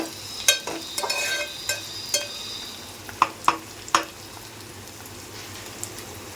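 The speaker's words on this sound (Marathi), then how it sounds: "मी कांदा तर घातलेला आहे छान परतलाही गेला आहे" Onion sautéing in a pan, a soft continuous sizzle punctuated by several sharp clicks and taps of a spoon against the pan, close and moderately quiet, with no talking.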